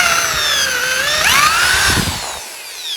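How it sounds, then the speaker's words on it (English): A power drill boring a 5/8-inch hole in a micro camper frame for a Honda Element, a loud steady whine whose pitch dips and then climbs under load before it cuts off, close up with no speech. "When you're drilling your 5/8 holes, we want them a little bigger just to give us a little bit of play."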